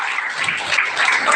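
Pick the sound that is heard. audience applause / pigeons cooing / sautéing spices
audience applause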